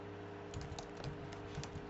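Quiet computer keyboard typing: a handful of soft, irregular key clicks over a steady low electrical hum, with no speech.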